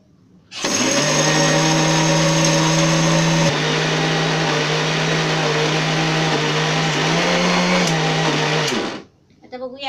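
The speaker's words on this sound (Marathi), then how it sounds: "आणि आता ही बारीक मिक्सरला लावून घ्यायची." A mixer grinder whirs loudly and steadily for about eight seconds, grinding curry leaves, coconut, sesame, chilli powder and salt into a chutney, with a small shift in pitch midway before it cuts off.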